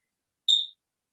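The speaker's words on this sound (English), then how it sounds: "Somebody sounds like they just had a smoke alarm go off" A single short, high-pitched electronic chirp sounds once against silence, like a smoke alarm's low-battery beep.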